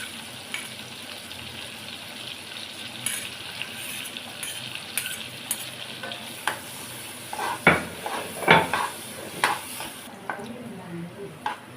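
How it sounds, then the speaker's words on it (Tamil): Garlic and green chillies sauté in melted butter, a steady soft sizzle with a spoon stirring and scraping, sharper clinks and scrapes clustering toward the end. "இப்போ பச்சை மிளகாவும் பூண்டை நல்லா வதங்கிடுச்சு."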